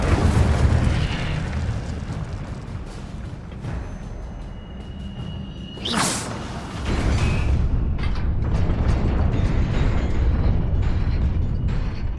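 An Incendio fire spell cast in Hogwarts Legacy gives a sharp whooshing flare that swells into a rumbling burst of flame, set among ongoing mechanical creaks and a dense game ambience with no talk.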